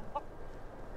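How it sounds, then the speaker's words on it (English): Two short hen clucks from a farm chicken, the first light and the second fuller, separated by a quiet pause, fairly close and heard on their own. "and a chicken."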